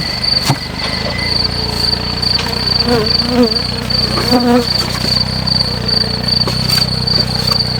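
Honeybees swarm densely around an open hive being inspected in spring, a steady close buzzing with darting passes of single bees and a faint whine near the microphone, no talk.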